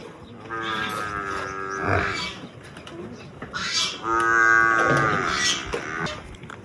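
Buffaloes moo loudly nearby, two long, low, drawn-out calls with a pause between, over faint outdoor background noise.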